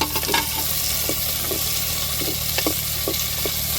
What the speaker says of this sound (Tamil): நம்ம கட் பண்ண தக்காளியும் மிளகாவையும் சேர்த்துக்கிடுவோம்